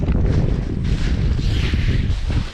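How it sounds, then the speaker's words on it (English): Strong wind blows steadily across an outdoor campsite, roaring and buffeting the microphone in a continuous loud rush with gusty swells and no voices. "It's a little windy."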